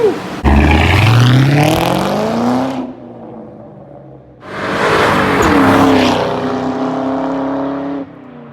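A stock 2004 Cobra engine roars on a dyno, climbing steadily in pitch through one loud pull, dropping off briefly, then revving hard again in a second sustained run before easing down.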